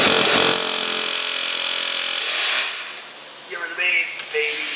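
Snap-on 350A air hammer working on bolt heads during a Subaru Outback rear wheel bearing repair: a loud, harsh pneumatic buzzing hiss for a couple of seconds, then brief rattling bursts and a voice.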